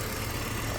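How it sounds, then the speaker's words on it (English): A BMW E46 engine idles steadily with a low, even hum and slight vibration, running smooth with no misfire after a vacuum leak repair, heard close by with no talking. "Seems like the engine is running smooth."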